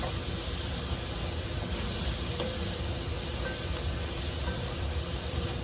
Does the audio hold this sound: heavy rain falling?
no